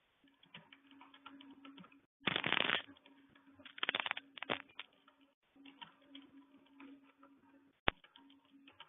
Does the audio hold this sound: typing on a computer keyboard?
yes